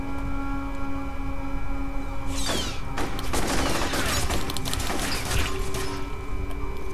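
Dense, loud volleys of gunfire in the shooter game F.E.A.R., rattling in continuous rapid bursts with mechanical clatter and impacts, over a steady background hum and almost no speech.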